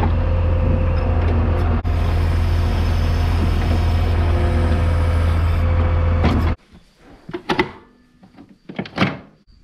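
A skid loader's diesel engine idles in a loud, steady low rumble on a cattle farm, then cuts away to quieter clunks and knocks.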